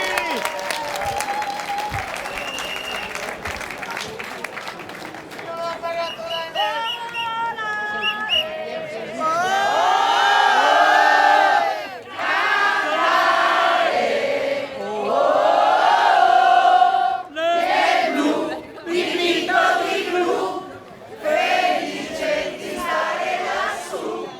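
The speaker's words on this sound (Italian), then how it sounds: "un po' di applauso a tutti!" An audience at an outdoor concert in Piazza Milano, Jesolo, first under a sung melody, then breaking into loud, sustained applause and cheering that swells and dips in several waves, with shouting voices mixed in.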